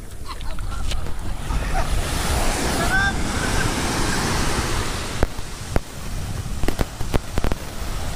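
Sea waves wash and break at Bolasi Beach in San Fabian, Pangasinan, a steady loud surf roar with wind buffeting the microphone and a few sharp splashes near the end.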